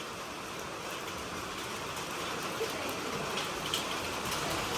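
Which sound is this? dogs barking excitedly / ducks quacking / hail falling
hail falling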